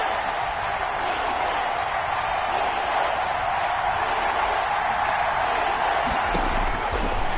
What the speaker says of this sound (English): this is where the Arrowhead crowd can make it very tough